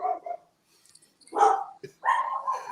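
A household dog lets out a few sharp barks and yips in short bursts close by, separated by brief silences, with a person talking in between.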